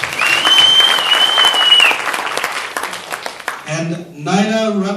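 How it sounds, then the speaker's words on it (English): A health justice forum audience breaks into dense, loud applause with a thin whistle riding over it. The clapping thins out and a voice starts talking near the end. "Let's give him a big round of applause"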